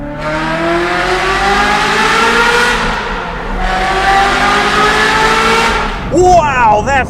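A Ferrari F355 Spider engine revs hard through two rising pulls on downshifts inside a tunnel, loud and echoing, ending with brief sharp squealing chirps.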